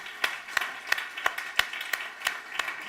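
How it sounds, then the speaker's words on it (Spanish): Sparse, separate claps ring out in a church congregation welcoming a newcomer named Fabiola, about eight distinct hand claps at a steady rhythm, fairly quiet and spaced, with no talk over them. "Un aplauso para Fabiola"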